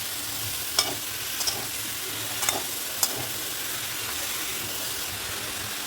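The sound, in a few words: banana flower with spices and shrimp stir-frying in pan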